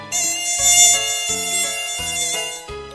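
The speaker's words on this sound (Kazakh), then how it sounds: "Маса." Mosquito buzzing close and loud, a steady high-pitched whine that swells and dips slightly over a few seconds, with no talk.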